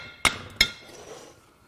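Two sharp metallic hammer blows on stuck valves of a Honda Accord J35 V6 engine, about a third of a second apart, ringing briefly with a clinking edge, then fading into quiet room noise.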